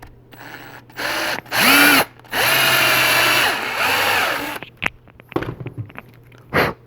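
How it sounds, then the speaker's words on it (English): A power drill whirs in several bursts, the longest running a couple of seconds, with short pauses and light handling clatter between them, close by, drilling pin holes into a 1/4-scale Gladiator figure kit. "then what I'll do is I'll just drill"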